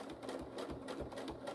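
A sewing machine hums and rattles steadily while stitching thread in free-motion couching. The needle pulses quickly and evenly at close range, with no speech.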